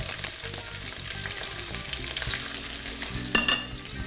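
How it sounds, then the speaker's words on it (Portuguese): Broccoli frying in hot cooking oil in a pan gives a steady close-up sizzle with a low, rapid crackle. A sharp clatter, likely a utensil, cuts in near the end. "Já estou colocando o brócolis para fritar."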